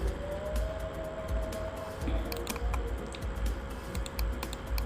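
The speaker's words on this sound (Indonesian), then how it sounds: "Saya akan ketik sekolah" Typing the word sekolah on a computer keyboard in a graphics program: a short run of light key clicks over a steady background hum and a faint tone.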